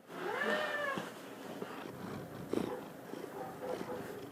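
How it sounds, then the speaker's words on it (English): A domestic cat meows and purrs close by in an office, a drawn-out meow at the start followed by softer purring and a couple of brief chirps. "My cat wants to join."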